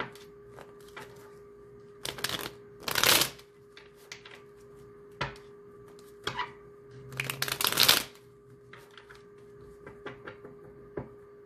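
A deck of oracle cards is shuffled close by, giving crisp riffling bursts and soft card taps spread across the stretch with quiet pauses between, over a steady low hum.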